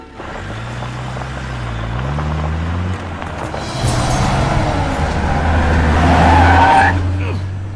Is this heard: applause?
no